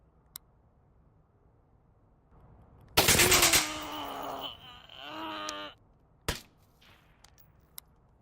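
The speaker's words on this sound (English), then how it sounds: "now we're going to do the TAR-21 corner shots with a shorter barrel now." A TAR-21 rifle with a shorter barrel fires corner shots in the Onward VR game: a loud burst of rapid shots ringing out over a couple of seconds, a short follow-up burst, then one sharp single report against a quiet background.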